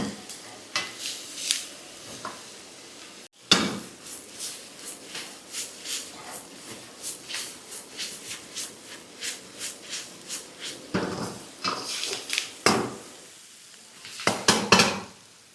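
Cashews frying in a pan for chole butter masala, with repeated stirring scrapes and clinks of a utensil against the pan over a soft sizzle, close and fairly quiet, no talking.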